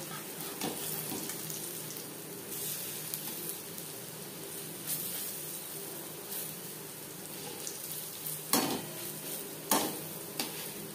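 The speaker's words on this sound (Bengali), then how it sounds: "একটা সাইড ভাজা হয়ে গেলে অপর সাইডটা উল্টে দেব" Chana dal fritters fry quietly in hot oil, a soft continuous sizzle with occasional utensil scrapes and clinks as pieces are turned.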